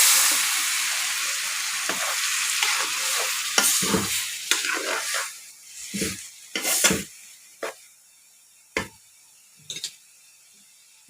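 Chicken with vegetables and tomatoes sizzles loudly in a frying pan, the hiss fading as a spoon stirs and scrapes, leaving scattered sharp knocks and clatters against the pan.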